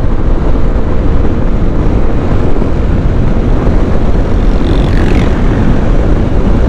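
A QJ Motor Fortress 160 motorcycle engine runs as a loud, steady roar, the drone continuous and mixed with rushing wind noise throughout.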